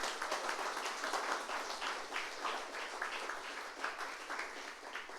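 A church congregation claps together during a Sunday worship service, a dense, steady wash of hands that carries on without pause for the whole stretch at an even level.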